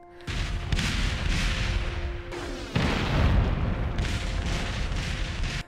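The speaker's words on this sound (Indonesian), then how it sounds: "ledakan bom meriam menghantam area base mereka" Civil War artillery cannon fire and explosions sound as heavy, rumbling booms in quick succession with a dense crackling roar, loud and sustained with a fresh blast near the middle.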